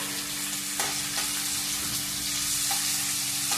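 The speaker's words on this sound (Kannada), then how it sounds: "ಫ್ರೈ ಆಗುವಾಗನೇ ಟೊಮೆಟೊವನ್ನು ಕೂಡ ಹಾಕುವ." Tomato frying in a pan, a steady close sizzle with a few soft stirring scrapes and no talking.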